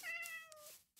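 A cat in the Minecraft video game gives one short, clear meow with a falling pitch, quiet and isolated, with no speech.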